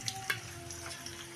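Coriander leaves dropped into hot oil in a pan while rasam is being cooked, giving a steady soft sizzle and fry hiss with a couple of brief crackling bursts near the start, close and moderately quiet, with no talking.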